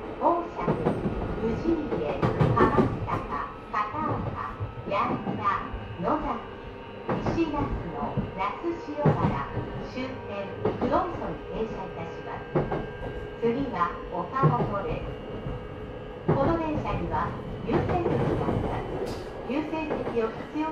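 A JR East E131-600 series electric commuter train on the Utsunomiya Line runs steadily with rumbling wheels and rhythmic rail clatter, while an onboard announcement voice speaks over the noise throughout.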